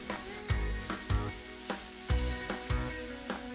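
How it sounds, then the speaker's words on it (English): Chorizo sizzles and spits in a frying pan for a quick pasta sauce, with a steady crackle broken by regular knocks and scrapes of stirring, close up and with no talking. "Our chorizo has been cooking for 5 minutes."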